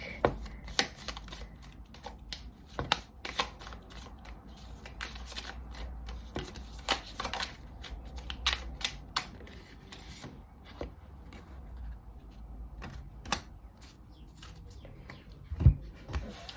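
Way of the Panda tarot cards shuffled by hand, a long run of close, soft riffling and sliding card sounds with scattered crisp taps and flicks, steady and fairly quiet with no talking.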